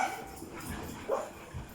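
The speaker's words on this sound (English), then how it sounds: "there we have the dogs joining in" Dogs bark and whimper somewhere in a family home kitchen, short yips and muffled woofs rising at moments over a low background hum.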